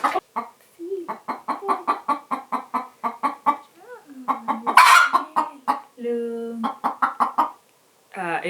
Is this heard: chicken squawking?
yes